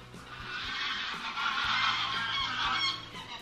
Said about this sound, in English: Noisy geese, all flying off at night, wherever they go.